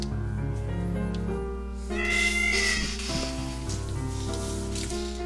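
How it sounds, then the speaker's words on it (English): A cat meows in the video game Touhou Fantasy, a short mewing call near the middle that rises over steady game music, with no talking. "Why did she meow?"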